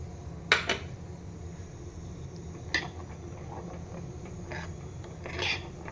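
A utensil stirs water into ground spice paste for mandeli tikhal inside a steel mixer jar, making a few quiet, scattered scrapes and clinks separated by pauses.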